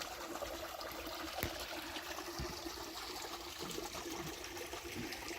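Spring-fed water trickles along a small stream at a rural deer camp site, a faint, steady wash with a few soft drips, no voices.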